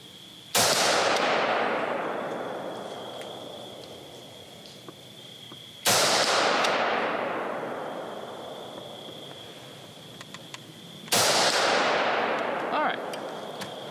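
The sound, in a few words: Smith & Wesson AR-15 shots hitting steel target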